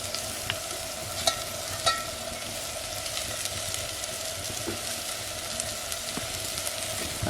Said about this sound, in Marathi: तर आता ही जी मसाले लावलेली भाजी आहे ते आता ॲड करून घेऊया याच्यामध्ये.